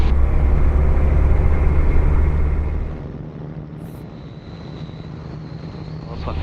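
Light aircraft on its takeoff run at Mosselbay, a loud, steady propeller engine drone that drops in level partway through as it climbs out, continuing as a lower hum to the end.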